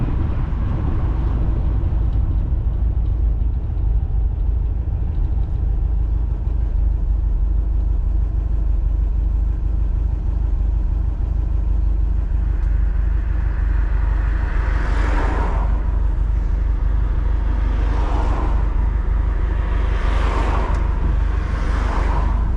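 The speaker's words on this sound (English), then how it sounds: "driving a split screen or any Volkswagen, older Volkswagen" Old Volkswagen split-screen bus driving through traffic: a steady, loud low engine drone runs throughout, with a few swelling revs as it accelerates near the end.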